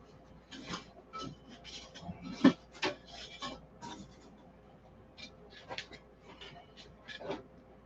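Intermittent rasping strokes of a sanding bar rubbing across wood, irregular scrapes with short pauses, close by and moderately loud.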